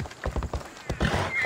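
A horse in the video game Assassin's Creed Odyssey gives a short whinny alongside quick clip-clop hoof steps, faint and brief.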